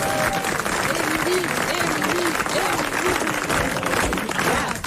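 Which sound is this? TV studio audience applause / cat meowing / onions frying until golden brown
TV studio audience applause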